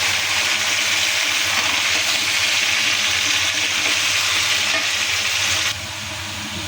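Cauliflower florets hit browned onions in a hot pan, setting off a loud, steady frying sizzle that carries on throughout and drops slightly near the end, with no talking.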